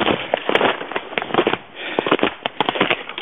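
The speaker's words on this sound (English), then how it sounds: "came out this morning and built a fire in the stove" A wood stove fire crackles and pops in quick, irregular bursts of sharp snaps, close and fairly loud, with short quieter gaps between clusters.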